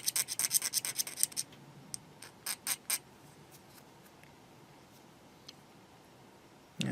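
Blade shaving a plastic seam on a 1/35 scale Takom Chieftain Mk10 tank model kit, a flurry of quick close scratchy strokes, then a few sparse scrapes and near silence.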